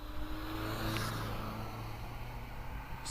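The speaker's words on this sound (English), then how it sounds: "We've got an MX-5 on the hill, and here it is in the hands of Rob Guttridge." A 1998 Mazda MX-5, a Mark II, drives up the Prescott hill climb, its engine a steady, fairly distant rev that holds and fades slightly, with no voices.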